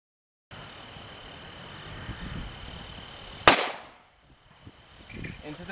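.45 Auto +P Corbon 230-grain JHP round fired into denim-covered clear gel at an outdoor range berm: one sharp, loud report that decays quickly over a faint steady background hum.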